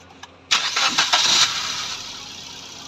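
A Maruti Suzuki Swift, just repaired for a check engine light fault, cranks briefly and fires up in a garage, settling into a loud steady idle after a few uneven catches.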